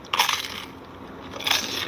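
Someone bites into a crispy caramelized turon, a fried banana roll with a thin glassy sugar shell, giving two sharp crunches close up with quieter crackling between them.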